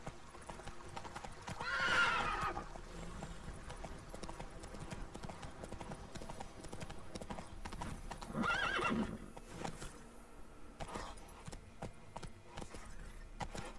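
A horse gallops in The Witcher 3 with rapid, steady clip-clop hoofbeats throughout, plus two loud whinnies, over a quiet game background.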